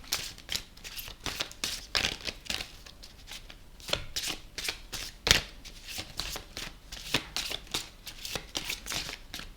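Oracle cards being shuffled by hand, a steady run of crisp papery riffles and flicks repeating through the whole stretch at close range, with no talking.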